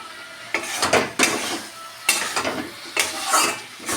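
Mustard-chili paste sautéed with fish and potatoes in a pan, heard as repeated scraping stirs and clattering strokes over a low sizzle, close by, in uneven bursts about once a second.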